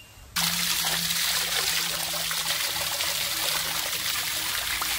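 Water runs and splashes steadily nearby as chicken is rinsed under it, a continuous close wash.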